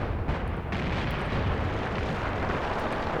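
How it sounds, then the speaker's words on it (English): Mortar strike explosions pound a target area in the war game Graviteam Tactics, a dense, continuous rumble of blasts blending into one another at steady loudness, with no voices. "my mortars are continuing to target this area"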